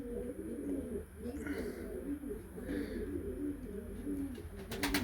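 Young game pigeons cooing in a forest clearing, with many overlapping low, rolling coos forming a steady, close chorus throughout.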